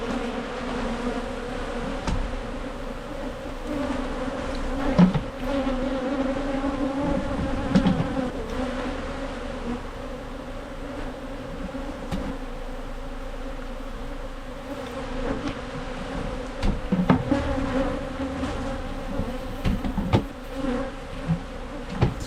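Bees and wasp-like insects buzz steadily around a wild hive built inside a chest of drawers in Trinidad and Tobago, a dense continuous drone with occasional louder passes close by, no talking.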